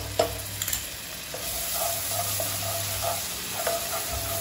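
Ginger garlic paste frying in melted butter and oil, giving a steady moderate sizzle with occasional stirring scrapes and a faint low hum in the background, close and without speech.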